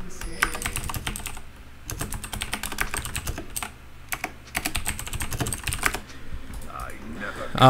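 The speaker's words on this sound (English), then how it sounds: "Sorry if the keyboard is a little loud. I have a Razer mechanical keyboard now" Rapid clicking of a Razer mechanical keyboard typed on hard and continuously during a League of Legends game, loud and close, with brief pauses and faint game audio underneath.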